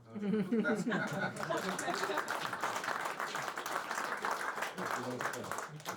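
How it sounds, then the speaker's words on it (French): Applause at a tourism medal award ceremony, a dense ongoing clatter of many hands with chuckles and chatter mixed in, and a voice speaking over it at the start. "Applaudissez, il le mérite largement."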